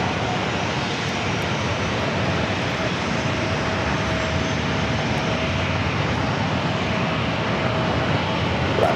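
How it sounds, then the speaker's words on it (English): Jet engines of an Alaska Airlines Boeing 737-900ER at San Diego airport, heard as a continuous, even roar that stays fairly loud from start to finish with no voices. "Alaska Airlines Flight 1097, also a"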